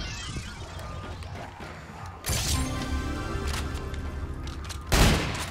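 Gunfire in the zombies mode of the video game Call of Duty: Infinite Warfare, with rapid bursts and loud impacts, two sharp heavy blasts standing out over a busy game soundscape, and no voices.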